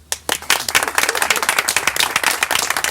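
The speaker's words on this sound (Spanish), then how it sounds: "un aplauso muy fuerte que os vamos a dar ahora" Loud, close applause from a crowd honouring people back from an Antarctic mission, starting sharply after a brief pause and continuing as dense, steady clapping.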